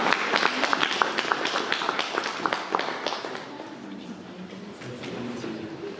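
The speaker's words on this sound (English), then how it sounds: "A round of applause for Jessica." An audience at a poetry reading in an art gallery claps in a burst of applause that fades after a few seconds, followed by a quieter room.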